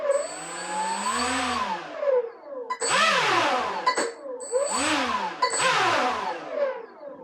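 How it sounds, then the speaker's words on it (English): The motor of an RC air boat drives its fan forward and then in reverse, whirring up and down in pitch through four surging rise-and-fall sweeps with brief gaps between, close and fairly loud. "Motor forward and back."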